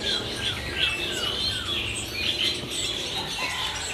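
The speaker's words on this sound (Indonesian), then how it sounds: "ini ada stok burung kebudang Bali" Kebudang Bali birds chirp at a busy bird market stall, many high twittering calls overlapping steadily with no talk over them.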